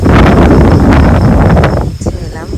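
Wind blowing outdoors at night, loud rough buffeting across the microphone for most of the stretch, then easing and dropping toward the end.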